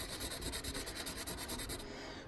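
Oil pastel being blended across paper, a close, soft, rhythmic rubbing with quick regular strokes throughout.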